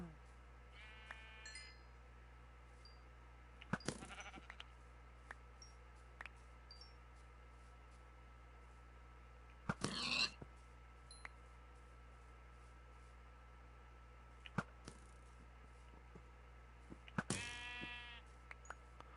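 Sheep bleating in Minecraft, several short wavering bleats at intervals over a quiet game backdrop, with a few small clicks and beeps between them.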